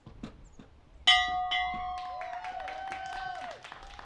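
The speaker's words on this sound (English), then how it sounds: "Ring that bell." At an outdoor high school graduation ceremony, a bell is struck once, loud and ringing, and its tone decays over a few seconds while people talk and clap faintly around it.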